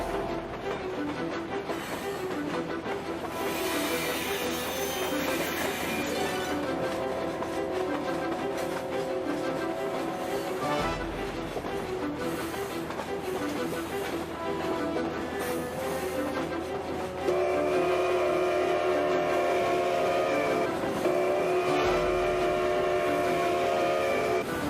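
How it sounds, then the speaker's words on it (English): A runaway train rumbles steadily and loudly for the whole stretch, with sustained whistle-like tones over a dense mechanical roar that grows louder partway through. Nobody speaks. "We have a runaway train."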